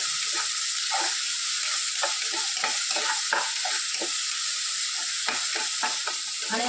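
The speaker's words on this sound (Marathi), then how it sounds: "एक मोठा कांदा बारीक चिरून घेतलेला आहे ते सुद्धा ह्यामध्ये टाकून घ्यायचं आहे चांगलं असं मिक्स करून घ्यायचं" A finely chopped large onion is stirred in a hot pan for sev bhaji, giving a steady bright sizzle with repeated scraping strokes of the spoon close by, and no voices.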